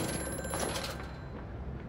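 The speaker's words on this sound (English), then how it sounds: "Someone's calling. I gotta go pick up the phone!" Telephone ringing inside the horror video game Amnesia: A Machine For Pigs: a continuous, faint bell-like ring over a dense, rumbling ambient drone, with no talking.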